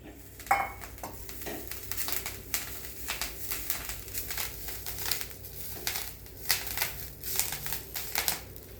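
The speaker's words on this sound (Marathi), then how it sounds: "आता हे सगळं मिक्स करून घेणार आहे, छान परतून घेतलेलं आहे." Spoon stirring a spicy mixture with coriander in a pan over low heat, with repeated soft scraping and clinking strokes in a steady rhythm, close and moderately loud, with a faint sizzle.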